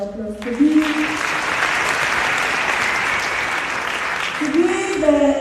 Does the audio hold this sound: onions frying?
no